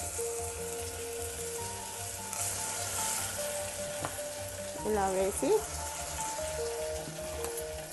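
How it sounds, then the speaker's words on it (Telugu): Batter for ginne rotti goes into oil in a brass pot and gives a soft, continuous sizzle throughout. Someone says a short phrase near the start, and a brief stir or scrape follows about midway. "ఒక ఇత్తడి గిన్నె పెట్టి అందులో కొద్దిగా నూనె వేయాలి. కొంచెం నూనె వేసి ఈ పిండి వేయాలి."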